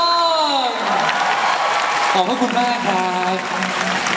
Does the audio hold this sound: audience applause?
yes